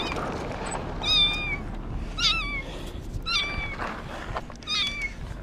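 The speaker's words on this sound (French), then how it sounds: "Oh le petit chat." A small cat meows in a series of four or five short, high mews at a roughly steady pace, close by and clear over a low background rumble, on the open steppe in Kazakhstan.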